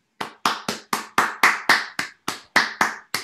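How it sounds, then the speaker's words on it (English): One person claps after a talk, about a dozen sharp, evenly spaced hand claps, close and isolated against silence. "You got some virtual claps there as well as the real one."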